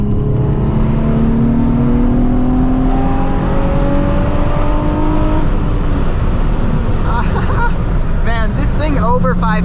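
Nissan 350Z engine revving hard above 5000 RPM with manual downshifts, a loud sustained roar rising in pitch, then choppy blips as the gears drop, recorded from inside the car.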